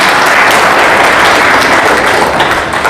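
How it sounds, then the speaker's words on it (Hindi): A church congregation claps during a Hindi sermon, producing loud, dense, continuous applause for a few seconds with no voices over it. "ताली तो बजा दो प्रभु के लिए"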